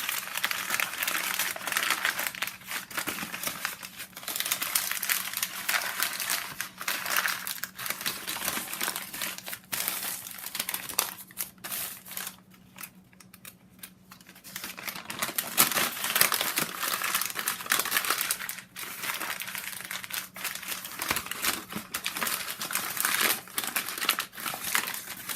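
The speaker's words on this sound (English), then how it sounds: "I just love the sound of crinkly paper." Crinkly paper being handled and leafed through in a composition junk journal, a close, continuous rustling and crackling with brief quieter pauses and no talking.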